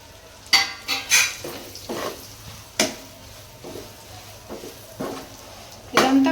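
A spoon stirs boiled eggs into spicy masala in a metal pan for egg pickle, giving scattered close clinks and scrapes against the pan with a faint sizzle between strikes and no talking.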